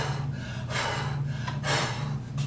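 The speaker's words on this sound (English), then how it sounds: "rapid, deep breathing" Rapid deep breathing demonstrated for hyperventilation in a respiratory biology lecture, with loud, close breaths rushing in and out in a steady rhythm over a low hum.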